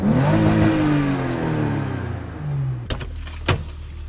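A BMW E30 drift car's engine revs up and holds a loud, rising then falling whine close by for about three seconds, followed by two sharp, brief bursts as the throttle blips.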